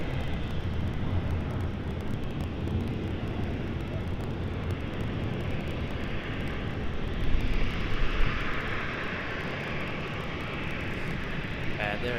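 Airliner taking off at night at Sydney Airport, a broad, steady jet roar heard from a distance that swells briefly midway, with faint radio chatter from air traffic control underneath.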